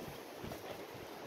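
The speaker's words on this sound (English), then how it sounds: "Wind's really picking up." Outdoor wind gusts against the microphone, a brief, faint, steady rushing and buffeting noise with no voices.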